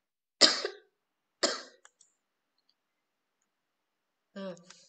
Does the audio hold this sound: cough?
yes